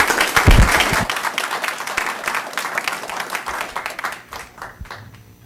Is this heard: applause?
yes